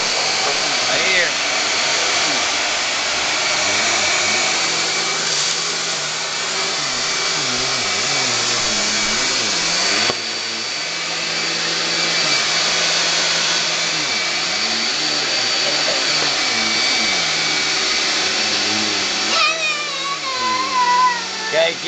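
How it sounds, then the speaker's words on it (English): A vacuum cleaner runs continuously and loudly at home with a steady whining drone, its pitch wavering slightly as it moves, with a short break midway before resuming. "keep vacuuming"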